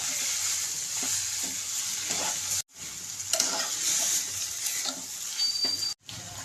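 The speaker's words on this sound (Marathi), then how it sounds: "आता बटाटा पूर्ण असा त्या मसाल्यामध्ये मिक्स करून घ्यायचा आहे आपण." Potato being stirred into frying masala in a pan for dabeli, with a continuous bright sizzle and soft scraping strokes, broken by two brief near-silent gaps, no talking.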